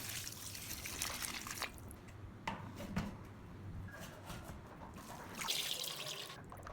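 Water poured over bean sprouts and then drained off, uneven splashing and trickling close by with a few drips and a stronger pour surging near the end.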